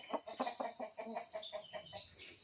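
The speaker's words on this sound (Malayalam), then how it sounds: "കോഴിൻ്റെ കരച്ചിലൊക്കെ കേൾക്കുന്നുണ്ടാവും." Frightened chickens cluck in a coop with a python inside, a rapid run of sharp, rhythmic clucks repeating several times a second, fairly quiet and without any voices.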